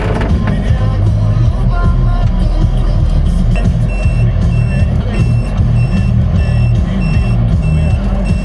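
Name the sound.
truck arriving with reversing beeps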